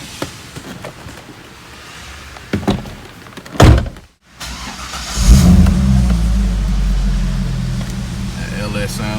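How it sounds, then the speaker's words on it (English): A Lambvette's LS V8 engine rumbles up loud and close after a door thunk, settling into a steady deep revving drone that carries through the rest of the moment. "That LS sounds amazing."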